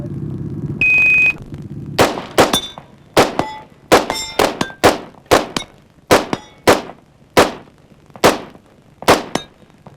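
Winchester rifle shots ring out at a steel shooting competition, about a dozen sharp cracks each followed by a metallic clang of steel plates, fired in a quick steady rhythm after a brief start tone.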